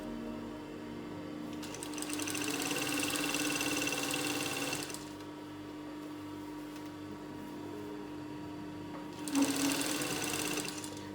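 A sewing machine stitches a skirt belt in two bursts, the first long and steady, the second shorter near the end, with quiet motor hum between them.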